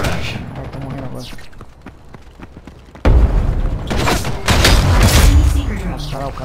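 AK rifle gunfire in the Ghost in the Shell video game, at first sparse sharp shots, then from about three seconds a dense, loud barrage of overlapping bursts and booms with voices under the shooting.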